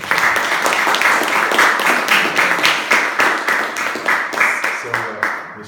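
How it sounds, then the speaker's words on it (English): An audience at a religious testimony interview applauds a speaker with steady group clapping, starting full and then thinning into slower rhythmic claps before it fades out. "Please give our brother a round of applause"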